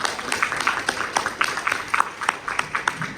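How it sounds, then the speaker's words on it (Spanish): An audience claps at a talk on the semiotics of femvertising, a moderate round of applause with distinct individual claps, close and sustained across the moment. "Démosle un fuerte aplauso"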